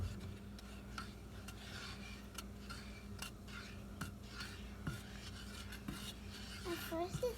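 A utensil stirs a drop of yellow food colouring into candy apple coating, a steady rhythmic scraping and clinking against the pot that runs quietly throughout, close and unaccompanied by voices.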